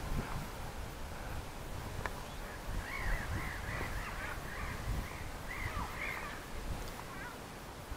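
Crows squabbling over food in a Dutch park: a run of harsh caws rises over steady outdoor wind and rumble, fairly distant and repeated in a loose cluster, with no talk.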